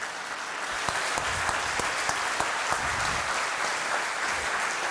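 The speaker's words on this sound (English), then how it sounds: "One more round of applause for Dr. Jahansouz." Audience applause at a program highlight event, steady dense clapping throughout with sharper individual claps standing out, loud and sustained with no voices over it.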